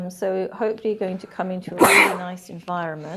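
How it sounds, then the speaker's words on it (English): A single sharp sneeze bursts out midway through ongoing conversation in a newly moved-into office space, with people talking closely before and after it. "Everyone is saying I'm sneezing over here."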